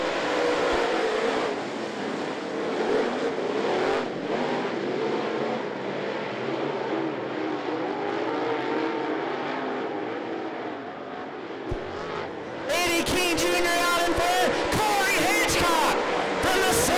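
Late model stock cars race around I-75 Raceway, a loud sustained roar of many engines sweeping past with crowd noise behind, then a sharp burst of higher, harsher engine noise near the end.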